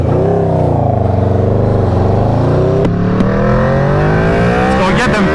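Aprilia RSV4 motorcycle running the Gabro MTorque map, accelerating hard in second gear with a loud, rising engine howl that climbs steadily in pitch, a brief shift blip partway through, heavy wind rush throughout.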